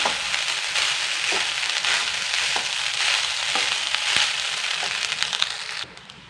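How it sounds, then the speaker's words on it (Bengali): Cooked rice for lemon rice is stirred and heated in a pan, giving a steady sizzle with crisp scraping and crackling as the spoon turns it, then falling quiet at the end. "ভাতগুলো দিয়ে একটু মাখিয়ে গরম করে"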